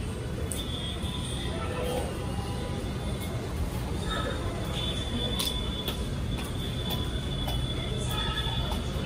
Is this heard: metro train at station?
yes